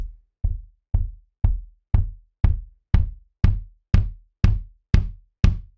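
Eleven evenly spaced kick drum hits from the UJAM Neon virtual drummer, each a punchy low thump with a short bright click and quick decay, played alone at a steady tempo.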